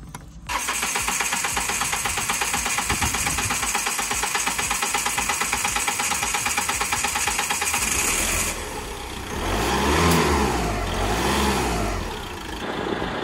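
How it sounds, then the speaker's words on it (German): A van's diesel engine, just fitted with a new fuel filter, cranks and catches almost at once, then runs with a loud, steady clatter before a couple of revs swell and fall near the end. "Ihr könnt einfach ein paar Mal den Motor versuchen anzulassen."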